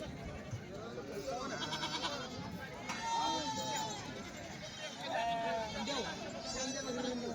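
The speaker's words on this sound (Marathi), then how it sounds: "त्या इकडे शेळ्या बघा" Goats bleat several times in wavering cries over a busy, noisy crowd with people talking throughout, at a goat market in Yenegur, Umarga.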